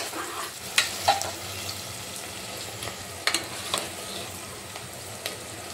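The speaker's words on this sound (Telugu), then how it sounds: "ఆనియన్స్ బాగా రెడ్గా బ్రౌన్ రావాలి." Onions fry toward browning with a soft, constant sizzle, joined by a few brief clicks and scrapes of stirring.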